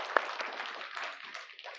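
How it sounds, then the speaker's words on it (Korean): Church congregation applauding, a soft, steady patter of many hands clapping at moderate distance in a room, with one sharper clap near the start and no talk over it. "감사의 박수 한번 치겠습니다."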